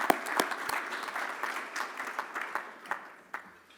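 Moderate audience applause at an awards dinner in a grand ballroom, a steady wash of clapping with some sharp individual claps standing out, gradually tapering off.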